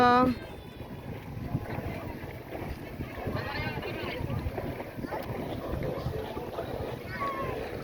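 A small manually driven boat ride near Immuki Island, San Gabriel, La Union: steady water wash and wind buffeting the microphone throughout, with people talking and calling out over it.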